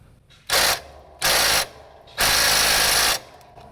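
Three loud bursts of rapid mechanical ratcheting from a ratchet wrench on the transmission pulley bolts of a John Deere GT245 lawn tractor, close up, short pulls followed by one longer run, no voices.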